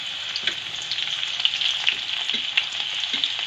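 Garlic sizzles in hot oil left over from frying pakoras, a dense, steady crackling hiss heard up close for a few seconds with no voices.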